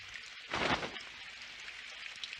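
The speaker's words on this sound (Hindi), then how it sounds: "काश ये बारिश जल्दी से रुक जाए" Rain in an animated cartoon scene, a soft steady patter with one brief louder rushing gust of downpour near the start, then settling back to a faint background hiss.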